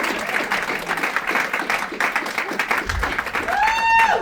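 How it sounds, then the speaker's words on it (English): An audience at a book signing event claps steadily in dense applause, with a brief low thump and a rising tonal whine near the end. "I want everyone just to give them a round of applause because they're cool people."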